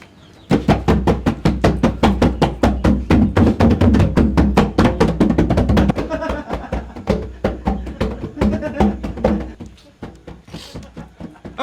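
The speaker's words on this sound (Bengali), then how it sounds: "তোমার ঢোল একটু দাও তো" A dhol drum is beaten in fast, driving strokes, loud and close. The rhythm loosens and softens partway through and trails into scattered beats before stopping.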